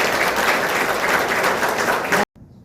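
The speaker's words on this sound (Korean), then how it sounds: "박수하시기 바랍니다." A church congregation applauds after an elder installation at an anniversary service, a steady, fairly loud burst of many hands clapping that ends suddenly.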